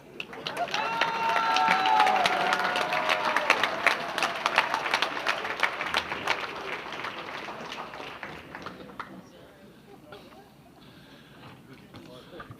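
A banquet crowd at a sports hall of fame enshrinement cheers and applauds loudly, dense clapping with whoops and shouts that swell early, then gradually thin out and fade to scattered claps.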